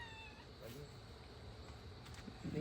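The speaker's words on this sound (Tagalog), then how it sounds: "Manghihingi na siya ng pagkain. Yung pusa." A cat meows faintly a couple of times in a quiet outdoor space, with soft background noise and a slightly louder cry near the end.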